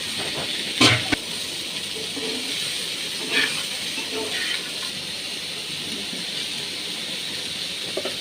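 Pointed gourd and potato pieces with turmeric fry in a hot pan with a steady, soft hiss, and a few louder clinks and stirs stand out briefly.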